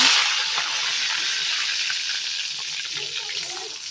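Mustard seeds and cumin in hot oil, cooked for a potato masala, make a soft, continuous hissing sizzle with scattered light crackles, fairly quiet and even for the whole stretch.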